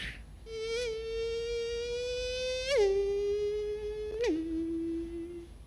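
A beatboxer imitates a mosquito in flight with a thin, sustained whine that holds steady, then drops in pitch twice in abrupt steps like changing gears.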